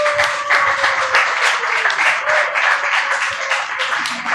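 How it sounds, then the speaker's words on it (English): An audience claps in a dense, steady round of applause at a live event, loud and sustained, with no voices on top. "We should give every round of applause."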